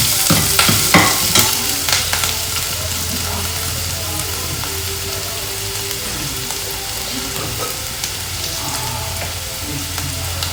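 Onion fries in a pan with a steady close sizzle, while a spoon stirs and scrapes in a few quick strokes near the start, and the crackling frying continues alone afterward.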